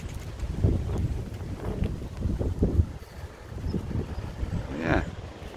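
Wind gusting outside the entrance of an old leat tunnel, a steady low buffeting rumble across the microphone at close range, rising and falling throughout, with a voice talking in the background.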